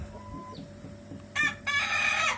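A chicken being calmed by hand before its spur is removed gives soft clucks and low vocal sounds, with a sharper, louder burst of squawking or crowing near the end.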